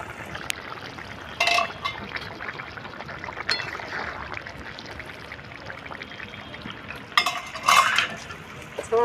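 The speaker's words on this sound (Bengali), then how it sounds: "ঢাকনাটা খুলে দেখে নেব" A lid clinks against a pot of bata fish curry with vegetables, two clear metallic knocks apart from each other over a low, steady kitchen background, no talk.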